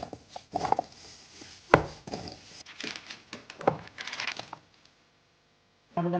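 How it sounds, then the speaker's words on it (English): Sweet potato pieces tossed with oil, salt and black pepper make irregular close clattering and soft knocks that stop into near silence, followed by a brief final rustle. "The sweet potato, we're gonna add oil, salt, and black pepper. Okay, I'm just gonna give that a toss."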